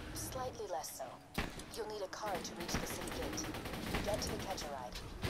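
A fast-firing gun rattles off rapid shots in Borderlands 2, dense bursts of gunfire that keep going the whole time, with players talking loudly over the shooting.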